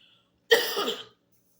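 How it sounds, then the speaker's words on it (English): A woman gives a single short, close cough that rasps briefly and stops, with silence before and after. "I'm about to cough"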